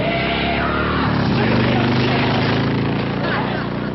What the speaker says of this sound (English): Some crazy kid is racing up down your driveway on a motorcycle.